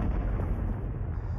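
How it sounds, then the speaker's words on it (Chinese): Gunfire and artillery fire from a battle drawing close to a command post during the Chinese civil war, a dense, continuous low rumble of overlapping shots and blasts, no voices. "这枪炮声是从哪儿传来的？"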